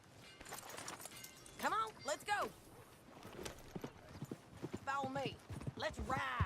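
Horse hooves clip-clop in a steady trotting rhythm beneath several people talking in Red Dead Redemption 2, with the voices louder and the hoofbeats staying in the background.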